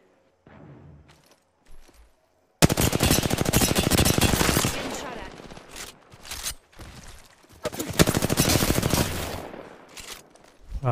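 Automatic gunfire in the video game Apex Legends bursts in loudly after a quiet start, dense rapid volleys with short gaps between bursts, close and sharp, with no talking.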